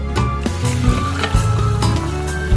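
Tofu and beaten egg frying together in an oiled wok, giving a steady close sizzle with soft scraping and stirring clicks over it.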